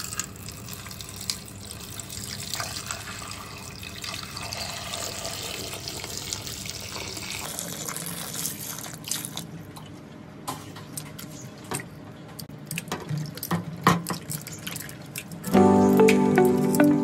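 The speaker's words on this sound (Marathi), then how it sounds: "सर्वात आधी घेतलेत बटाटी आपण स्वच्छ पाण्यात धुवून घेऊया।" Potatoes being washed in clean water in a home kitchen, with steady running water and splashing, scattered drips and handling sounds, and a louder burst of flowing water near the end, with no voices.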